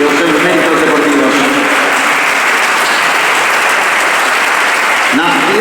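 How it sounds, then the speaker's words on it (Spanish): A hall audience at the Galician Swimming Federation's 2024 gala claps steadily for its swimmers, a dense sustained applause with a voice speaking over parts of it. "darles un forte aplauso por los seus logros e os seus méritos deportivos"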